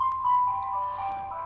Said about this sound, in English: That's the alarm for the 3 p.m. prayer.